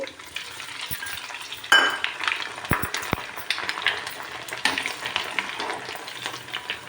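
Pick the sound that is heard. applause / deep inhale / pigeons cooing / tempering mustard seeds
tempering mustard seeds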